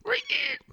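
A human voice imitates a squealing guinea pig with two short, high, whiny squeaks in quick succession, close and fairly loud.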